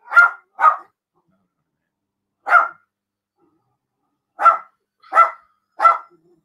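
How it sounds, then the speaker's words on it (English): A stubborn dog barks six times indoors, two quick barks, a pause, one bark, then three more at intervals, each sharp and close with silence between. "Stubborn dog."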